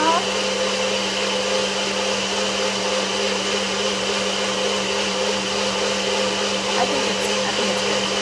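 A Nutribullet blender runs with a steady, loud motor whine and whir throughout, and a voice speaks briefly over it.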